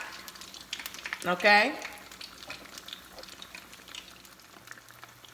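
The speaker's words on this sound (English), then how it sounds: "So we're gonna let this fry for at least another 2 minutes on this side." Alcapurrias, Puerto Rican fritters, frying in hot oil with a steady low sizzle, briefly stirred or splashed near the start, while a person speaks over it.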